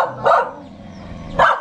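A village dog in the Kalinga mountains of the Philippines barks twice, two sharp close woofs separated by a short pause.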